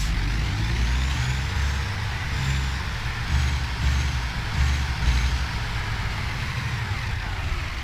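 Heavy truck with a long trailer backing up in American Truck Simulator, a loud steady diesel engine rumble with shifting low drone and a brief air-brake hiss, no talking.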